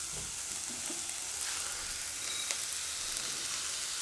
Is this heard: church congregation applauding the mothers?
no